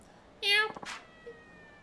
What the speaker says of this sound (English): That bag is meowing at me.